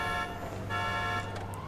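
A car alarm going off in the video game GTA 5, a steady electronic tone with harmonic overtones sounding continuously and moderately loud, with faint game ambience beneath.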